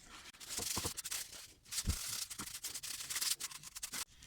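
A soft paper towel rubs and scrubs the contact points of a car's front brake caliper clean. Rapid, close rasping strokes come in an irregular rhythm with brief pauses, and no voices are heard.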